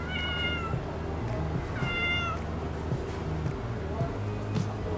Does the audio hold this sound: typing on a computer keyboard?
no